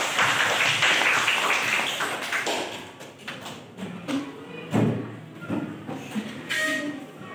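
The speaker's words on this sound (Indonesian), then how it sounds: "silakan berikan tepuk tangan untuk kelompok" A classroom of students applauds a student group after their presentation, a dense burst of clapping that fades within a few seconds into scattered taps, thumps and shuffling.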